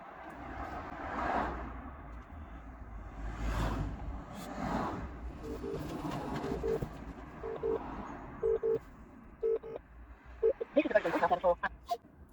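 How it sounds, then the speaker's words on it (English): A phone places a call, with a run of short electronic dialing beeps followed by repeated ringing tones, heard faintly and close over a low background murmur. "So let's give her a call."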